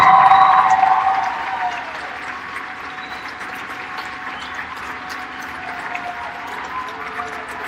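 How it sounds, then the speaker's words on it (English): Applause for senior swimmers at a district swimming meet, loud at first then fading to scattered, distant clapping and crowd murmur in a large echoing hall. "How about a nice big round of applause for our senior swimmers?"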